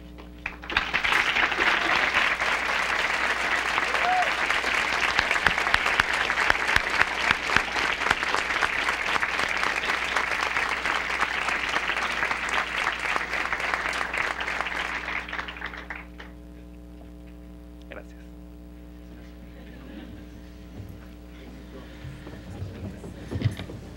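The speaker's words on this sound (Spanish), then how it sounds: "me permito solicitar un fuerte aplauso para todos ustedes y para el comité organizador de Itamun 2015" Loud, dense applause from a large audience at the opening of a Model United Nations conference in Mexico, sustained for about fifteen seconds before cutting off, leaving a quiet hall with faint scattered noises.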